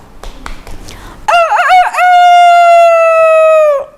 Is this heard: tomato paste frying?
no